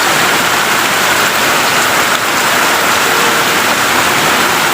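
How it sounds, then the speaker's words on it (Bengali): Heavy rain pours steadily in Gournadi, Barishal, a loud, dense, unbroken hiss of drops hitting surfaces with no pauses. "আজকে বৃষ্টি হলো।"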